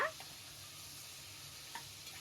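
Large-cut carrot and potato pieces sizzle steadily in hot oil with tempering, a continuous close frying hiss with a couple of faint stirring clinks.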